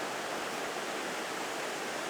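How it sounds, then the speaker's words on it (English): A waterfall on an island roars as a dense, steady wall of rushing water, loud and close, with no talk over it. "There is another reason why these waterfalls are a bit more exciting than the Peak District ones"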